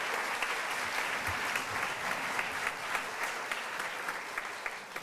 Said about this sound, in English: Now you can clap for the Sandburgers